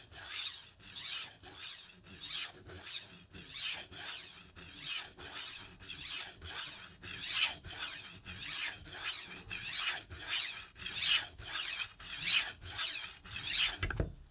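A Global G-2 chef's knife is stroked across an Atoma diamond plate in a steady rasping rhythm, roughly twenty-five even scraping strokes about half a second apart, close and clear, with no talking.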